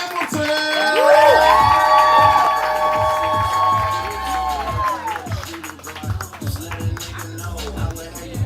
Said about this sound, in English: we making all the noise for your first poet, L.J.